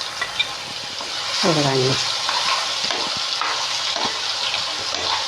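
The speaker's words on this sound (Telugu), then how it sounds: "ఇది ఇట్లా ముందు తిరమాతలో నూనెలో వేగాలి మసాలా." A masala of grated coconut, shallots and onion fries in oil for an aloo masala curry, a steady close sizzle with occasional stirring scrapes, and someone speaks briefly over it.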